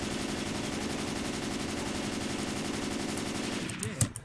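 Rapid automatic gunfire rattles continuously at the Tank in Left 4 Dead 2's Blood Harvest campaign, a dense near barrage that cuts off near the end with a final sharp report.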